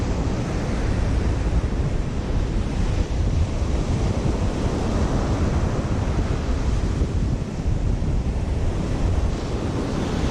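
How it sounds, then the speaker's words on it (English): Strong onshore wind buffets the microphone while surf rolls in at New Smyrna Beach, Florida, on a cold, sunless day, making a loud, continuous roar of wind and breaking waves with no voices. "There's no sun and the wind has really picked up."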